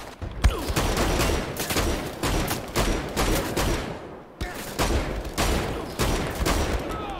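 Shotgun blasts in the video game Wolfenstein: The Old Blood, fired as a dense, loud barrage of heavy booming shots with a brief break partway through and no talking.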